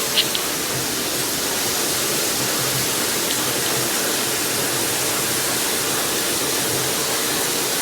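A cheap water-powered LED shower head sprays at full pressure, producing a dense, steady hiss of water that stays loud and constant throughout without pause.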